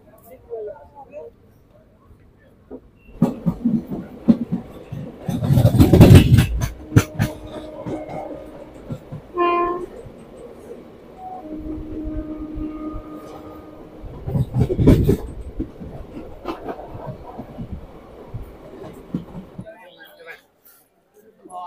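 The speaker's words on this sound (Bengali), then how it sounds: "আমাদের ট্রেন ছেড়ে দিল খাগড়াঘাট রোড স্টেশন" Train pulling out of Khagraghat Road station, with rumbling carriage noise, a couple of louder surges and brief squeals or signals, heard under continuous voices from start to finish.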